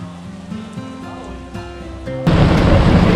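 Speed boat riding through heavy rain on an island-hopping trip around Langkawi, Malaysia: engine drone at first, then a loud burst of broadband rush and spray that continues steadily to the end.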